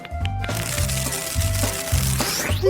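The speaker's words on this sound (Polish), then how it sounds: "Okruszę biszkopty" Sponge biscuits are crumbled by hand into a glass for a layered cupcake dessert, giving dry, close crackling and crunching in short bursts over a steady low hum.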